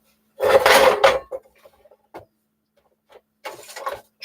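A top drawer of a small wooden set of drawers holding trays, pots and old pie tins is pulled open in a workshop, two clattering scrapes close by, then a pause and a rattling slide.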